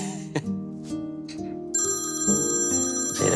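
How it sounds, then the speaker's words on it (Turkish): A telephone rings with a bright electronic ringtone, first a few short tonal blips and then a sustained, repeating chirping tone, close and clear, with no talking. "Telefon."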